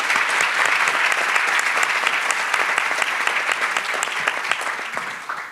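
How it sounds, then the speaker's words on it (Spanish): A seated audience at a Family Values 2023 event in Spanish gives a heartfelt round of applause for the founder and CEO, a thick, crackling patter of many hands that stays strong and tapers slightly at the end. "les quiero pedir un sentido aplauso para Patricia de Moya"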